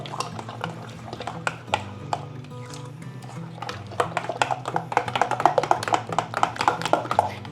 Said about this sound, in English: I'm just going to kind of give this a quick stir and mix it up together